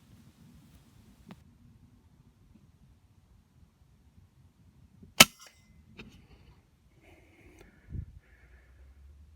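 An FX Impact air rifle fires once at a rabbit during an afternoon hunt, a single sharp crack standing out against quiet outdoor background, followed by a few faint distant knocks.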